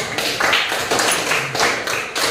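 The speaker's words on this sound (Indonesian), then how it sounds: "Ya, tepuk tangan untuk kelompok 1." A classroom group gives dense, steady applause for the first group after its presentation, with many hands clapping together in a loud, continuous wash that swells slightly in waves.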